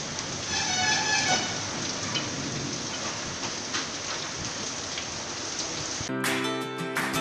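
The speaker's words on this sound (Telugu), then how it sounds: "జిల్లా పత్తిపాడులో గాలులతో కూడిన వర్షం కురిసింది." Wind-driven rain in Pattipadu, Guntur district, a dense steady roar of rainfall that stays fairly even throughout, ending abruptly in a cut to music.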